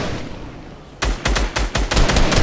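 Video game gunfire: after a second of near silence, a loud run of sharp, rapid shots fires in quick uneven bursts, close and alone with no talking.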